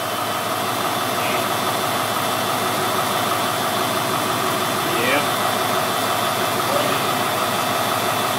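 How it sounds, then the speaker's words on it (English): A noisy power steering pump runs on a 1971-1973 Ford Mustang, giving a steady, loud mechanical whine and hum that fills the whole stretch without a break. "Noisy ass pump. That's for sure."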